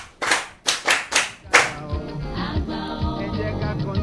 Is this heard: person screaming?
no